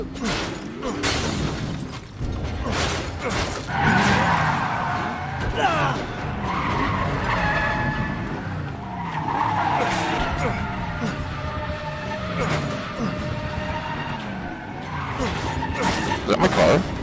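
A car skidding in the Resident Evil 7 game, with repeated tire squeals and engine noise, a few crashing impacts, and a person talking over it throughout.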